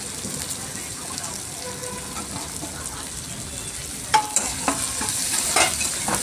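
Chopped tomato stirred and fried in a pan, a steady sizzle with scraping stirs that grow busier and sharper toward the end, close and moderately loud.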